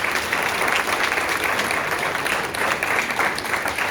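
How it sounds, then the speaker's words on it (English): Audience at a candidate forum in Santa Paula giving a round of applause, a continuous full wash of many hands clapping at steady loudness. "Let's give them all a big round of applause."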